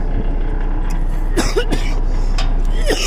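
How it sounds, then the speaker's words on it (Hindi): A truck driver coughs several times in short, harsh bursts close to the microphone over a constant low engine hum. "सुबह सुबह ठंडा पानी पीने से ना पता नहीं क्यों मुझे यार खांसी आती है"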